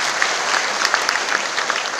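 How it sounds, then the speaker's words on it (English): A university foundation-day audience applauds the Governor of Nagaland University's guest of honour, steady dense clapping from a large crowd filling the whole stretch with a few sharper claps standing out. "Shall we all give a round of applause to our Governor?"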